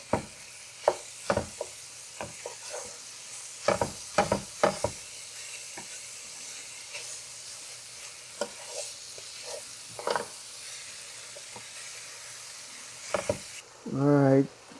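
Meat dropped into a hot pan for Gheimeh, the Persian split pea stew: scattered clinks and stirring knocks, then a sudden loud sizzle bursts up at the end.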